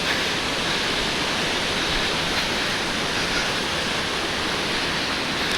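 Jogini Waterfall near Manali, a steady, dense roar of falling water that stays loud and unbroken throughout, with no voices.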